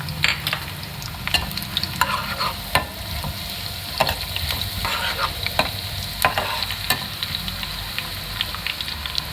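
Chopped onion and cumin seeds sizzle steadily in hot oil for a tempering, a close, continuous frying hiss broken by scattered pops and stirring scrapes, with no talking.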